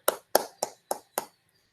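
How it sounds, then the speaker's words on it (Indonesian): Students in a classroom give a classmate a short round of applause: five crisp, evenly spaced claps close by, then quiet. "berikan dulu tepuk tangan sama teman Anda"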